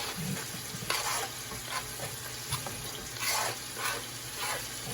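Garlic and green peppers cook in a pan with a steady sizzle, broken by several louder bursts and scrapes as the food is stirred, close up with no talking.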